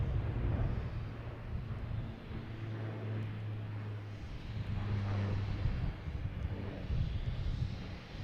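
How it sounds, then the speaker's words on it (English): A jet airliner takes off at Boston Logan Airport, its engines a broad, steady roar with a low droning hum, heard from a distance over the open airfield and holding at a constant level throughout. "After this takeoff, I'll see if I can zoom into it and see."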